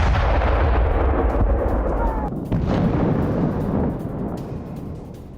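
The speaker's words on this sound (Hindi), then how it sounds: "रूस का इस्कंदर मिसाइल से हमला" Heavy rumbling blasts from a Russian Iskander missile strike, a loud sustained roar of explosions that slowly fades and settles into a lower rumble.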